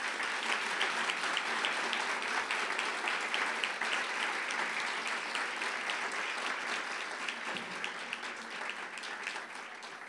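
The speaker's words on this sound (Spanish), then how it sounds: "para quien pedimos un caluroso aplauso" Audience applause greeting Margo Glantz, honoured with the Premio Nuevo León Alfonso Reyes 2019, at a morning university dialogue; steady, dense clapping from a seated crowd fills the whole stretch at moderate distance, tapering slightly toward the end.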